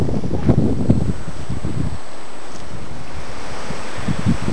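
Strong wind blows at Enchanted Rock, a loud, continuous roar that buffets the microphone without letup and carries a faint wash like distant surf.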